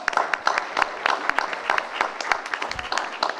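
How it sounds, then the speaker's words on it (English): An audience at a town hall meeting in a church gives a round of applause, brisk uneven clapping that is fairly close and lively, with speech mixed in. "Give yourselves a round of applause"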